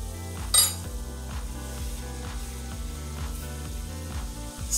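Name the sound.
onions sautéing and being stirred in a pan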